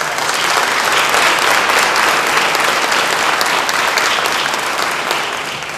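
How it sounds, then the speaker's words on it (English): A full round of steady applause from the crowd at a county Teacher of the Year awards banquet, dense and loud throughout, tapering slightly at the end. "let's give a round of applause for that"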